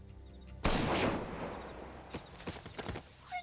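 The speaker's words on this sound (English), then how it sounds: "Pulls out sniper rifle." A sniper rifle fires in Xenoblade Chronicles X: one loud, sharp blast with a long rumbling tail, followed by several quieter thuds and cracks as the noise fades.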